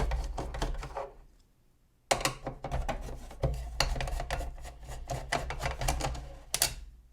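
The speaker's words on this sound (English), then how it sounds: "Let's first remove these two Phillips head screws here." Small Phillips head screws being worked loose from a cassette player's amplifier, with a run of sharp, close metallic clicks and scrapes coming in bursts between short pauses.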